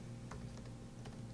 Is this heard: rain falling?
no